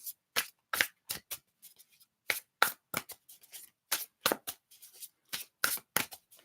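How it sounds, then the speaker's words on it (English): A large tarot deck is shuffled by hand in close, crisp bursts of riffling card flutter separated by short pauses, with about a dozen quick shuffles and no talking. "It's nice to shuffle this deck."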